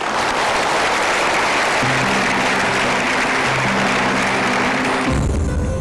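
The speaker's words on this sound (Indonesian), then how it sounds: "Silakan berikan tepuk tangan untuk Bapak Denny" Loud, dense applause from an audience, with sustained musical tones beneath it, stopping abruptly near the end.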